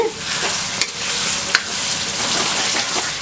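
Goat liver fries in oil in a covered pan with a steady, close sizzle, broken by a couple of sharp clicks or pops.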